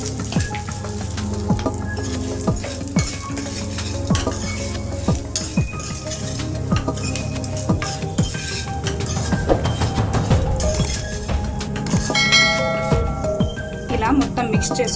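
Raw banana pieces coated in turmeric, coriander powder and chili powder are stirred in a pan, with repeated metal spatula scrapes and clinks over a soft sizzle and a voice talking throughout.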